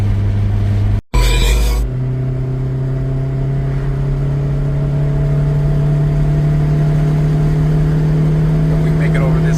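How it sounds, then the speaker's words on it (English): A fifth-gen replacement engine in an 8th-gen Honda Civic drones steadily and loudly as the car climbs a hill, the revs holding high and building slightly after a brief dropout near the start, with talk mixed in over the engine. "We should hit some VTEC. There it is, VTEC."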